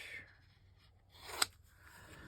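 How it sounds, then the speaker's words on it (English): A single crisp snip of scissors cutting paper for a junk journal, close and brief, rising out of a quiet room tone with faint rustling around it. "Let me just cut this down a little bit."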